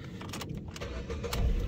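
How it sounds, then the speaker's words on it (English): A Ford C-Max Zetec car is started on the key, with brief key and ignition clicks followed by the engine catching and rising into a low idle rumble at close range. "Starts on the key."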